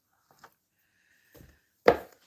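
Zucchini chopped with a knife on a cutting board: a couple of soft, faint taps, then one sharp, louder chop followed by a brief quiet tail.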